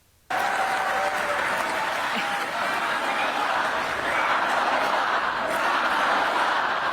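A large crowd applauds steadily at a Kamala Harris campaign rally, with sustained, dense clapping that starts abruptly and holds at an even, loud level throughout.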